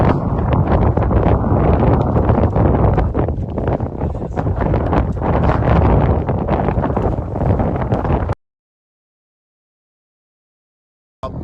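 Strong wind buffeting a microphone on a hilltop above Moab's arches and canyons, a loud continuous rushing roar with gusts that stops abruptly, no voices.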